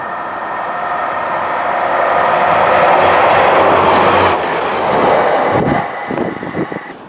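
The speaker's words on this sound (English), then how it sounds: "the Class 142 pacer actually hammered it down and it passed through Newton-le-Willows early" A Class 142 Pacer train speeds through Newton-le-Willows station, a loud rushing swell with clattering wheels building to a peak, then quickly fading to rhythmic clicks as it departs.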